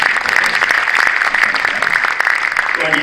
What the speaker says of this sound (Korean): 잠깐 우리 법인 임원들 일어나실 때 다 같이 박수로 격려하도록 하겠습니다